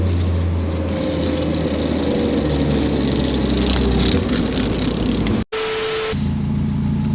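Close and loud, a Mazda Miata engine runs steadily after a fuel system service, holding a low continuous hum with slight revving before an abrupt cut near the end.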